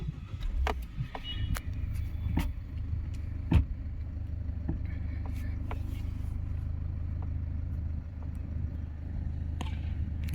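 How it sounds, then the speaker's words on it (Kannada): A Toyota Etios Liva VXD diesel car idles with a steady low engine drone, punctuated by scattered clicks and taps from the cabin, continuous and close with no talking. "ಆಮೇಲೆ ಗಾಡಿ ಸೌಂಡು ನಿಮ್ಗೆ ಗೊತ್ತಾಗುತ್ತೆ ನೋಡಿ ಇಲ್ಲೇ ಗಾಡಿ ಸೌಂಡ್"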